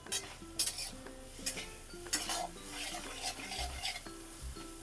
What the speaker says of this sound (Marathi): मसाला छान परतला पाहिजे तर खूप छान भाजी होते आपली कच्चा राहायला नाही पाहिजे